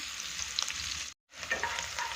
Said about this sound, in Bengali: বাটারের সাথে সুন্দর পেঁয়াজটাও আমার হালকা ভাজা হয়ে যাবে।